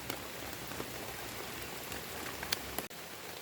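Rain falling in a forest during mushroom foraging, a steady dense patter of drops on leaves and ground with occasional sharper nearby splats, continuous and fairly soft, with no talking.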